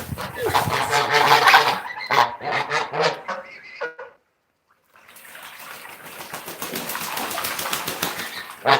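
A wet pet bird flaps its wings in vigorous, rapid bursts, splashing and fluttering close by, with a brief pause mid-way before the flapping resumes as a dense, rustling flurry.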